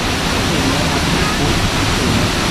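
Steady broadband roar of rushing water from Jok Kradin waterfall in Pilok, Thailand, like a waterfall pouring close by, constant and loud throughout with no breaks.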